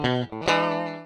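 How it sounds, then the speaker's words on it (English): Two brief electric guitar notes, plugged directly into an audio interface, ring out dry and direct, the second sustaining and slowly fading, with no effects or amp coloring. "This is the sound of the guitar plugged directly into the audio interface with no plugins."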